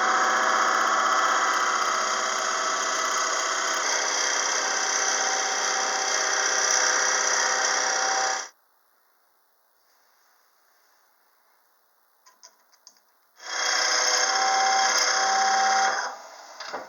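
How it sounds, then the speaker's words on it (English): A drill bit boring a 1 3/8 inch hole into the wooden body of a pepper mill on a lathe, a loud steady whirring hum for several seconds, a pause with faint clicks, then the motor spinning up again. "we can drill a 1 3/8 inch hole that is 13/16 inch deep on this side of the peppermill"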